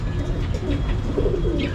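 Pigeons of a lively Jalali style, newly paired, coo close by in repeated low throaty rolls, several birds overlapping against a murmuring background.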